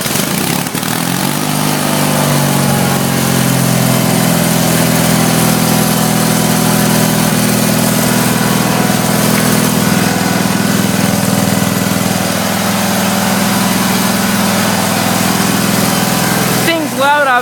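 A Case 446 garden tractor engine, last run a while ago and choked, runs loud and steady for the whole stretch with a low rumbling drone before cutting off near the end.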